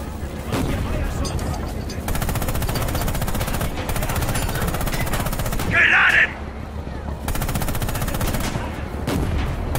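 Dense, continuous gunfire from a damaged tank's main gun and machine guns fills a World War II tank battle in the game Panzer In The Mist, loud and steady throughout, with a sharp burst standing out near the middle and voices under the din.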